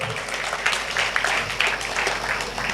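An audience claps briefly at a Hindi-language presentation about Enagic Kangen water machines, a dense patter of hands sustained for a couple of seconds at moderate loudness.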